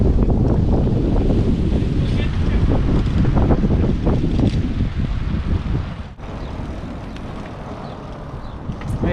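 Sea waves wash against the shore at Katara in Qatar, with heavy wind buffeting the microphone in a loud, continuous roar that eases slightly partway through.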